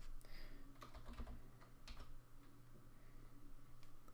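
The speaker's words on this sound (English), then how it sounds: "I'm only typing in Gazgul in the search bar" Typing on a computer keyboard: quick, irregular key clicks close by, fairly soft, with a few louder taps over a faint background hum.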